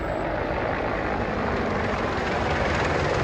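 Apache attack helicopter in a combat zone, heard as a loud, continuous broadband engine and rotor roar with no breaks, filling the whole stretch.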